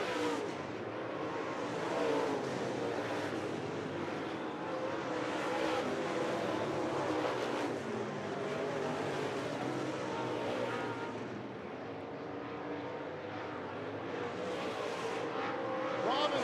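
Sprint cars race at Tri-State Speedway in an ASCS feature, their engines a continuous loud roar with swelling and fading passes. A commentator talks over it throughout.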